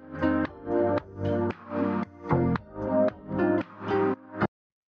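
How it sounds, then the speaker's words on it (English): Lo-fi house music sample in a deep, organic house style: a looped chord stab phrase repeating in even pulses, warm and filtered, ending abruptly after about four and a half seconds, no voices. "just like a pretty straightforward kind of house sample, like, you know, something you would use in like lo-fi house"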